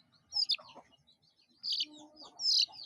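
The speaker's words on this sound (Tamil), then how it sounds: "ஏதோ ஒரு கோழி குஞ்சு கத்துது" A chicken chick chirps in short, high, thin peeps, a few bursts spaced over a couple of seconds, close by in a quiet, dark spot.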